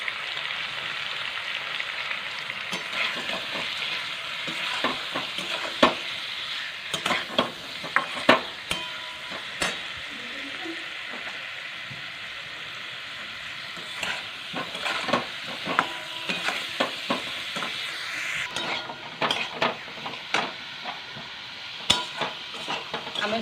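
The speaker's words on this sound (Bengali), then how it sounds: "আমি সব মশলাপাতি দিয়ে একটু নেড়ে চেড়ে ভালো করে আমগুলো একটু নাড়াচাড়া করে নেবো" Mangoes tossed with salt, turmeric and chilli powder in a pan give a steady low sizzle, broken by repeated sharp scrapes and clacks of a spatula stirring close by, with no talk.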